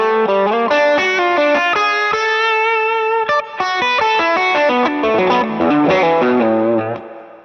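Electric guitar solo played through stacked J Rockett Touch overdrive pedals, a loud, sustained, distorted lead with fast melodic runs and held notes, alone and close.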